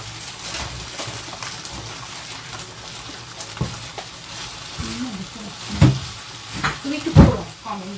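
Okra (ladies finger) fries in a pan as it is stirred, a steady low sizzle broken by scraping and knocking of the utensil against the pan, with louder clunks near the end.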